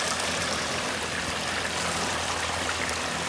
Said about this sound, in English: I'm gonna get a little bit of water in here.